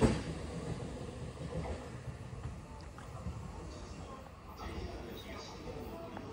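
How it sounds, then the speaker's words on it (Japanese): A Joban Line local train pulls away from a station platform, bound for Toride, with a steady low rumble and faint rail clatter at moderate distance, fading slightly as it departs. "ホームからは各駅停車の取手行きが出発していきました"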